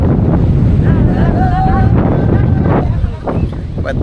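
Cold wind blowing by the Ganges river at Rishikesh buffets the microphone with a loud, continuous roar, and faint voices can be heard under the gusts.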